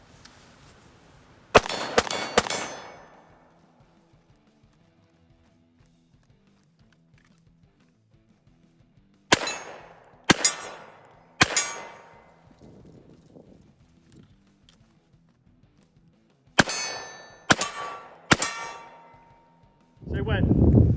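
Glock pistol fitted with an RMR red dot fired in three separate strings of sharp, loud reports with ringing clangs of bullets striking steel targets, quiet gaps between strings and a faint voice.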